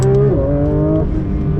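A 2023 Porsche 911 GT3 RS engine pulls away loudly and close by, its steady tone stepping up briefly and then settling as the car gets moving.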